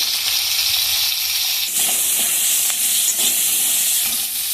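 Crabs frying in a pan with green chilli, garlic, salt and turmeric give a loud, steady sizzle and hiss, with occasional stirring scrapes and no talking.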